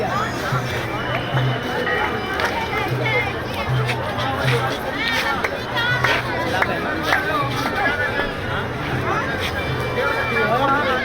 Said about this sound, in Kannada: ವಿಪರೀತ ಕ್ರೌಡ್ ಇದೆ ಇವತ್ತು, ಹೆವಿ ಕ್ರೌಡ್ ಇದೆ.